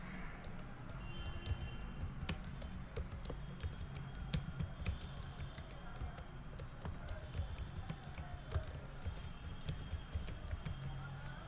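Steady typing on a computer keyboard: rapid, light key clicks in an irregular rhythm continue throughout, close but faint, with a low murmur of voice underneath.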